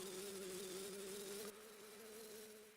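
A bee in the video game Zelda: Majora's Mask gives off a steady, fairly quiet electronic buzzing drone that holds on and fades slightly near the end, with no talk over it.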